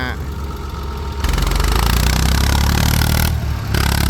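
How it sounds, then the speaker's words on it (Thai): A tractor engine runs close by with a steady low rumble and clattering mechanical texture, swelling louder partway through as it works, with faint talk underneath. "ขับรถไถ"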